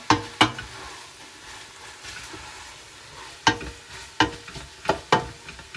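Tomatoes and peppers are stirred into an onion and garlic mixture for mussels provençale, with a faint background sizzle broken by several sharp spoon knocks and scrapes against the pot.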